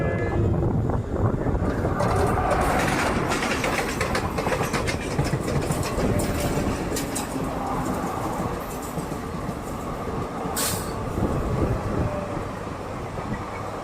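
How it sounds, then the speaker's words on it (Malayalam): The Palaruvi Express rolls through Chalakudy railway station, a loud sustained rumble of wheels and carriages passing close by, with a rhythmic clatter and a brief bright squeal near the end. "ചാലക്കുടി റെയിൽവേ സ്റ്റേഷനിലൂടെ ഇപ്പോൾ കടന്നുപോയ ട്രെയിൻ തിരുനെൽവേലി ജംഗ്ഷനിൽ നിന്നും പാലക്കാട് ജംഗ്ഷനിലോട്ട് പോകുന്ന പാലരുവി എക്സ്പ്രസ് ആണ്"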